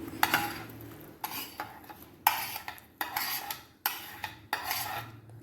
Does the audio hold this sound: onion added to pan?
yes